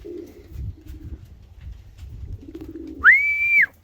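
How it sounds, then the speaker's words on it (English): Soft rumbling and low cooing from pigeons, followed by a short, clear whistled call toward the end. "Oh, we've got some birds coming down."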